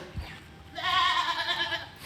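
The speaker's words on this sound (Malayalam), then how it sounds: "ഒരു ക്രോസ് ബീഡ് ആട് വിൽപ്പനയ്ക്ക്" A tall crossbreed goat weighing about forty kilograms gives a single loud, close, wavering bleat after a brief quiet moment.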